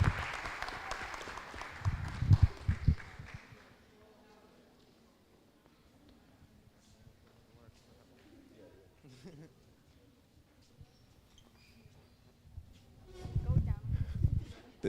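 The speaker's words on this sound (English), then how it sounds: "Can we give a big round of applause to our girls' undefeated soccer team" A crowd at a school board meeting applauds the undefeated 2022-23 girls' soccer team, with one loud burst of clapping near the start, quiet talk through the middle, and a second burst of clapping at the end.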